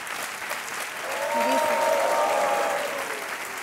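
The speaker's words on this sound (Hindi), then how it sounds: "तालियां बजती रहनी चाहिए।" Studio audience applause on the KBC quiz show set, a steady loud clapping that swells slightly mid-way, with a faint musical tone and murmur of voices underneath.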